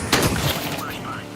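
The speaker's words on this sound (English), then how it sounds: "Flashbang." A flashbang grenade bursts in a tactical shooter game, one short crackling blast right at the start, quickly overlapped by a player talking.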